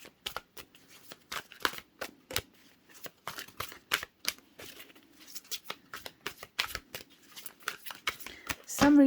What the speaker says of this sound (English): Some reason the shuffling takes forever today.